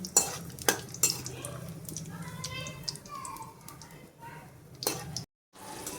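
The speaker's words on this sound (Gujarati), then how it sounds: "પહેલા બદામ શેકી નાખશું. ઘી ગરમ થઈ ગયું છે." Almonds roast in hot ghee in a pan, giving a faint low sizzle with a few clinks from stirring, before a brief drop to silence near the end.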